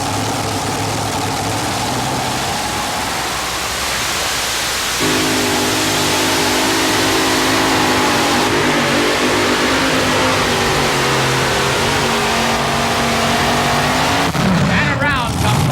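A truck and tractor pulling rig at a 1987 TNT pulling event in Hamburg roars at high power, a loud, sustained engine drone that surges partway through and runs without a break for the whole stretch.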